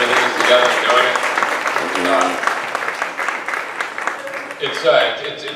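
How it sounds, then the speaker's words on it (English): A crowd applauds at an immigration forum in San Diego for Congressman Vargas, steady dense clapping filling the room throughout, with some voices mixed in. "let's give a big round of applause to Congressman Vargas for all of his work and bringing this together and doing it"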